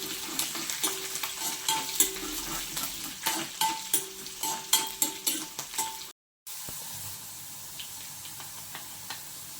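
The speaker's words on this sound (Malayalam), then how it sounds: "നല്ലോണം നിരത്തി കൊടുക്കാം ഉള്ളി ഒന്ന് വാടി വരണം" Onions fry and sizzle in a pan for gooseberry pickle while a utensil stirs them in repeated scraping strokes, steady hiss throughout with a brief drop-out near the middle; no talking.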